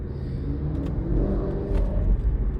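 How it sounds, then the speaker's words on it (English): Road traffic with a car accelerating nearby, a low rumbling engine whir rising in intensity over a couple of seconds, fairly faint and without voices. "There is so much traffic on the road today"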